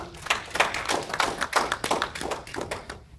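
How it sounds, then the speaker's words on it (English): Applause from an audience at a candidate forum, a dense stretch of many hands clapping for about three seconds before tapering off at the end. "So I'll give a round of applause for Donna."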